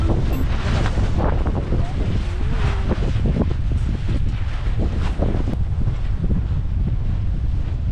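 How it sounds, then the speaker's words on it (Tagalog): Strong wind buffets the microphone in a continuous loud rumble, with gusty roaring throughout and faint voices partly buried underneath. "Sobrang hangin ngayon"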